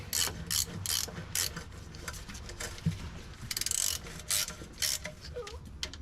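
Ratchet working the transmission pan bolts on a 1984 Dodge W150, rapid clicking bursts in repeated short runs at close range, with faint background noise between strokes.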